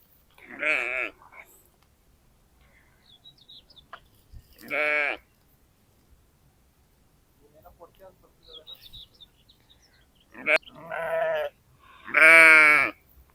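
Sheep grazing on farmland in Germany give loud, well-separated bleats, roughly four calls spaced across a quiet open-air stretch with faint bird chirps between them.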